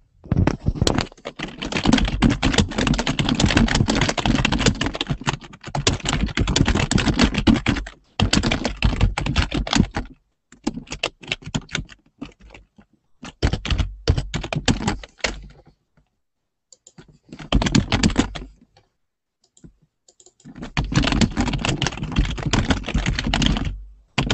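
Someone types a description on a computer keyboard, with rapid close key clatter coming in long bursts separated by short pauses.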